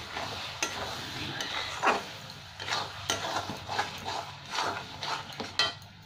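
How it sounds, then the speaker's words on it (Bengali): Paneer cubes frying in a pan with cashews and salt for a shahi paneer curry, a soft sizzle under repeated scraping and stirring of a utensil against the pan, with irregular clinks. "এবার পনিরগুলো দিয়ে একটু ভেজে নেবো 1-2 মিনিট"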